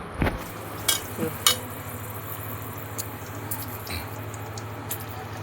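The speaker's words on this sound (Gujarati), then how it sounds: "તવિયું ચડાવી દીધું છે મરચા તળવા" Chilies frying on a griddle over a fire, with a steady low sizzle under a constant hum, broken by a few sharp clicks and taps of a utensil against the pan.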